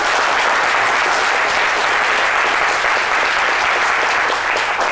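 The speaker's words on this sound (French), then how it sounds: "je vous demande d'applaudir très fort" A studio audience on a French daytime talk show breaks into loud, sustained applause, a thick continuous roar of many clapping hands that stays even and strong from start to finish.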